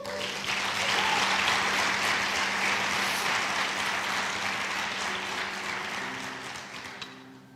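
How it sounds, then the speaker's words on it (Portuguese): A church congregation applauding, with broad, sustained clapping that swells quickly, holds steady and then slowly fades toward the end. "Dá um aplauso ao Senhor Jesus então."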